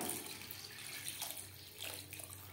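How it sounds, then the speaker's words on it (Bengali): Water poured into a pan of well-fried spice masala for an aar fish curry, a steady close splashing and rushing flow at moderate level, alone without voices. "এই পর্যায়ে দিয়ে দেব জল।"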